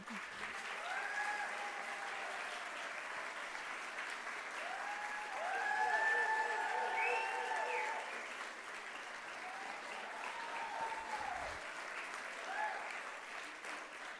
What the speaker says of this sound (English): Please give a round of applause and stand up.